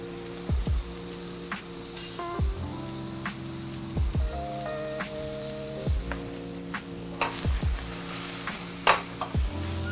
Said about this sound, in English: I'm gonna allow that wine to reduce a little bit.